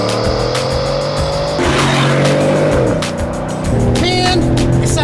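Chevrolet TrailBlazer SS with LS2 V8 engine driven hard, a loud revving roar rising through gear changes with tire squeal mixed in, close and steady with no talk.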